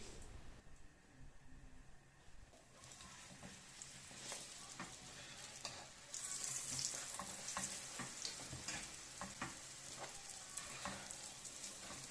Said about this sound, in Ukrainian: наливаю олії і буду жарити плечинди